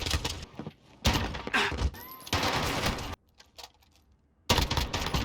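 Bursts of gunfire from Call of Duty: Modern Warfare 2019 come in dense, loud volleys separated by brief near-silent gaps, sharp and punchy with rapid automatic fire.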